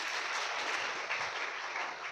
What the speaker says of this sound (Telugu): అందరూ ఒకసారి గట్టిగా చప్పట్లు కొడదాం.